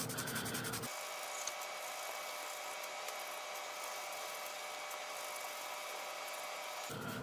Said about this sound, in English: One last rub will really make it show up.